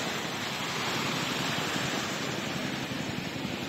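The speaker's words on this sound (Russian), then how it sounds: "О, волну гонит нам." Waves surge and wash onto the shore during a fishing trip, a steady, loud broadband rush of surf filling the whole stretch without pause.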